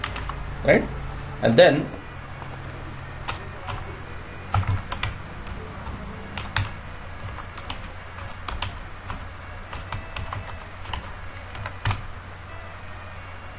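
Keys clack on a computer keyboard as validation code is typed for a Java web application form, sparse bursts of taps under a man's explanatory speech.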